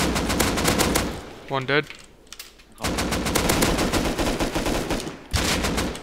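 AK rifle fire in an online shooter game rattles in fast, loud automatic bursts, stopping briefly mid-clip and then resuming, while a player talks over it.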